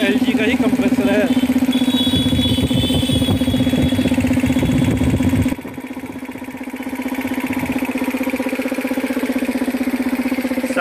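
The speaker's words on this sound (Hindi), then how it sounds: "स्टार्ट कर दिया हमने कंप्रेसर, देखिए कितना स्मूथ चल रहा है।" Elgi 3 hp air compressor with an LG motor, being tested without a starter after start-up, runs with a loud, steady motor hum and rattle that briefly dips then carries on evenly; a voice talks over it.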